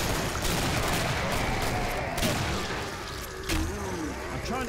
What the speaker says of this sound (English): grenades everywhere